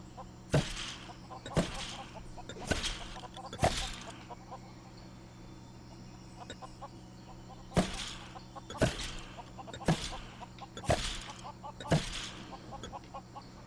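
Clucking chickens in the video game Lego Worlds, sharp bursts sounding every second or so in two clusters, over a steady hum of background music.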